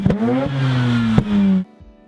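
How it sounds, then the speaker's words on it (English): A fully uncorked rotary engine breathing through a Racing Beat full cat-back exhaust and a cold air intake revs in a loud, smooth, buzzing drone with two quick blips, then drops abruptly to a low idle. "This is actually a very quiet, fully uncorked rotary engine."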